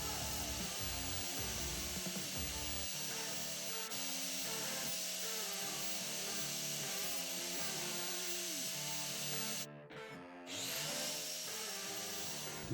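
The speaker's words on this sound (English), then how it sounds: "I'm gonna grind these down and do it from there." Steady, continuous grinding on leaf spring parts for a truck suspension, a sustained abrasive whine with one brief pause near the end, fairly quiet and alone.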